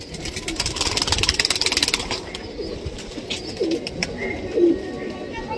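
Pigeons coo softly and repeatedly in a loft in Jammu, with brief flutters and faint rustling, while a low engine-like hum lingers nearby.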